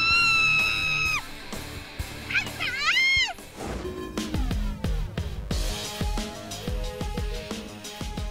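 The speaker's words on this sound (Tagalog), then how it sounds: "ang sigaw ng kaba at saya sa ride na to" Riders on an extreme roller coaster zipline let out long, rising and falling screams and yells of fear and excitement, with loud overlapping cries near the microphone followed by rushing noise and scattered shouts.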